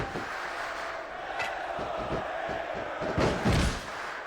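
A barbed-wire-wrapped 2x4 strikes in a WWE SmackDown vs Raw 2006 wrestling match, the heavy thuds and slams landing under a roaring arena crowd and commentary, with a louder impact burst near the end.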